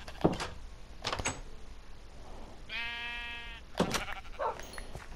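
A sheep bleats once in a clear, wavering call in a survival farming video game, set between thumping door-like knocks and light game sounds, with no talking.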